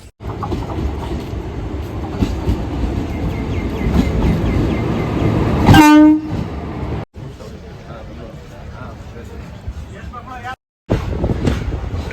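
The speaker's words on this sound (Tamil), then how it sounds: "ட்ரெயின் அங்கே ஸ்டார்ட் பண்ணிட்டாங்க மதுரை ஜங்ஷன்லேருந்து இப்போ வந்துக்கிட்டு இருக்கு" A passenger train on the Madurai to Palani route rumbles into a station with a steady roar and clatter, and a loud horn blast sounds midway; the scene then cuts to quieter background noise.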